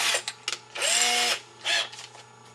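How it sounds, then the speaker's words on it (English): A step drill bores a hole during construction of an airsoft RPG prop, whining in several short bursts, with one longer steady run in the middle and brief pauses between. "Go ahead and put my step drill in."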